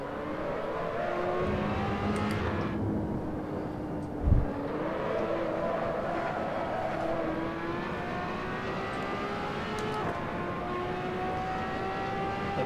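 A Ferrari LaFerrari road car on road tires laps Spa in Assetto Corsa, its engine droning steadily at high revs with rising and falling pitch through gear changes, plus a brief thump partway through.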